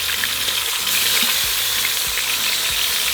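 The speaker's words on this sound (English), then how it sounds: "we're just going to repeat the process until all of our meat is nice and brown" Birria meat browns in an Instant Pot, a steady close sizzle of frying with faint stirring scrapes, constant and loud throughout without any voices.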